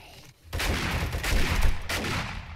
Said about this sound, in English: I love this automatic shotgun